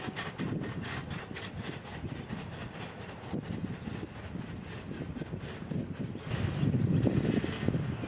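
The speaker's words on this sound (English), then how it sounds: "Tampa to Jack's Ramp Intermodal Q046 with the Spirit of West Virginia on point" Intermodal freight train Q046, led by the Spirit of West Virginia locomotive, rolls past near Plant City, Florida, a steady low rumble of rail cars with faint clatter, swelling louder toward the end, with no voices.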